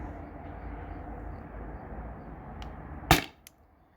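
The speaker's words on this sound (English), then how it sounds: "that was 5 shots" A single sharp CO2 airgun shot cracks out loudly near the end, preceded by a faint low rumble and followed by a small secondary tick, with no speech.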